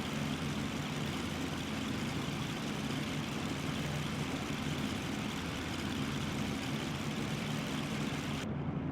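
A Cessna 310 piston twin runs in the X-Plane 11 flight simulator, a steady, loud droning engine hum near idle at about 1200 RPM, unchanging throughout with no talk.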